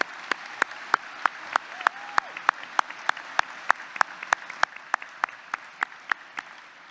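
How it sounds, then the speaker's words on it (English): Sparse, distinct handclaps ring out at a championship breakfast event for an anonymous donor, a steady series of individual claps over a light room murmur, close and fairly loud. "So round of applause for the donor"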